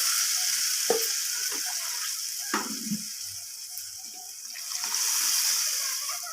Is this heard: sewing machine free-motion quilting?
no